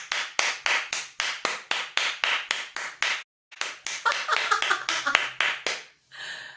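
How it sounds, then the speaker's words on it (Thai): Hands clap in a steady, even rhythm at close range, each clap crisp and distinct; the beat stops for a brief pause midway, then resumes slightly quicker and ends in a short flurry. "ปรบมือ"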